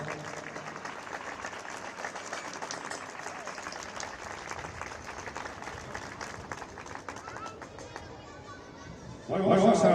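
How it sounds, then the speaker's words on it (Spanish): A crowd at a women's cycling race in Estella gives sustained applause and cheering for the new Navarra champion, with steady clapping mixed with chatter throughout and a louder burst near the end. "Último aplauso, venga, fuerte para ella."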